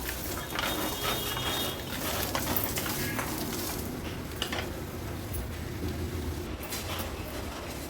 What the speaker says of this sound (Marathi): आता ह्या बिया छान आपण भाजून घेणार आहोत एक 10 ते 12 मिनिटाकरता